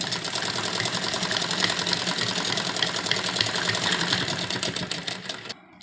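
A sewing machine runs steadily, stitching double seams along the sleeves of a heavy-size suit, a fast even mechanical chatter that continues for several seconds before slowing and stopping at the end.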